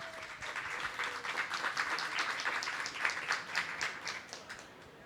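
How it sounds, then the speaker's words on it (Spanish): Welcoming applause from the audience at a round-table discussion event, many hands clapping in a dense, lively burst that swells and then gradually fades out over several seconds, without talk. "Démosle un aplauso de bienvenida a nuestros invitados"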